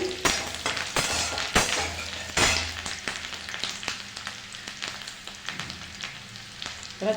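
Chopped green chillies frying in a pan for egg chilli, a steady close sizzle broken by sharp clinks of a utensil against the pan.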